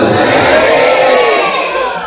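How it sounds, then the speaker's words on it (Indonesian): Audience at an Islamic sermon in Madura applauding the women of the congregation, a dense continuous clapping and crowd noise that holds steady throughout and fades slightly at the end. "Kita tepuk tangan untuk muslimat."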